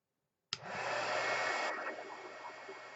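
A heat tool blowing hot air onto modeling film flowers to curl the petals starts abruptly and keeps up a steady, loud whooshing roar for the rest of the clip, with no voices.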